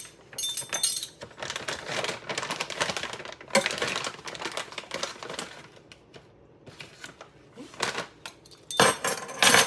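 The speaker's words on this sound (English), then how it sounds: "So I'm going to sift these together and then add 1 more cup." Flour, baking soda, salt and baking powder are sifted together in a kitchen, giving irregular bursts of metallic clicking and rattling from the sifter, with short pauses between.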